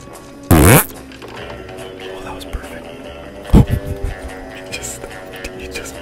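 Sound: fart sound effect

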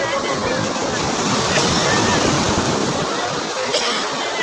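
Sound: sea waves on the shore as a boat is hauled in

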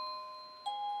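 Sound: wireless doorbell demo playing a ding-dong chime

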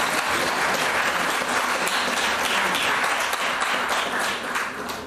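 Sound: audience applause for the intercessors

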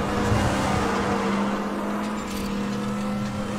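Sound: muscle car engine in video game Need for Speed The Run

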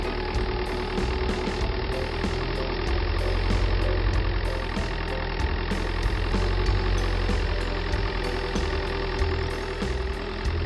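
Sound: tractor engine running

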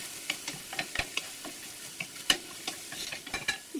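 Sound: champignon mushrooms frying and being stirred in a pan

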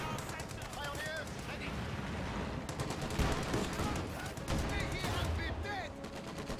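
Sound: machine gun fire in Company of Heroes 2 video game

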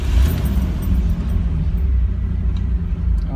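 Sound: third gen Chevrolet Camaro engine starting

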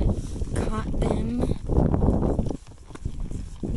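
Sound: horses walking, hooves clip-clopping

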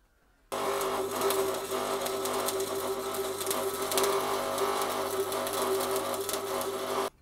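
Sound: welding a steel bracket brace

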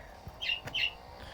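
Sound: bird chirping

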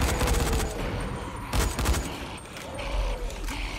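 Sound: gunfire, video game Dying Light

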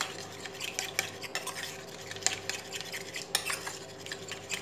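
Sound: stirring flour into liquid to dissolve lumps

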